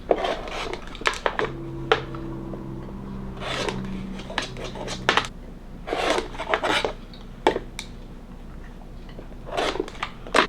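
Split star quilt block fabric is being trimmed in a series of short, crisp scraping cuts separated by pauses, over a faint steady hum.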